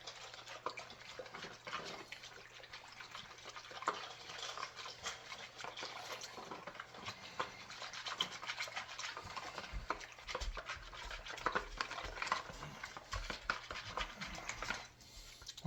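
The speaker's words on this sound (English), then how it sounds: "I'm just going to mix the starter and the water in." A whisk stirs sourdough starter into water in a bowl, a quiet, continuous scraping and sloshing with rhythmic clinks, close and faint against a low steady hum.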